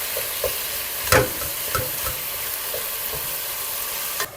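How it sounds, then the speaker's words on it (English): Pork, mixed meats and vegetables fry in a pan for Sicilian meat buns, a steady close sizzle broken by several scraping stir strokes and a louder clatter of utensil against pan. "Now we're gonna stir this up, kind of mix the meats, mix the veg, get everything all mixed up."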